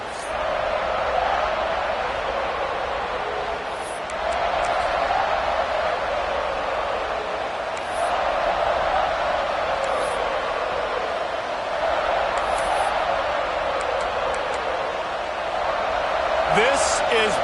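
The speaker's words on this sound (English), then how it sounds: "This crowd ready to make its presence known." Stadium crowd noise from a college football video game, Utah against Cincinnati, a broad sustained roar that swells and eases in waves over about seventeen seconds, with the announcer talking over it.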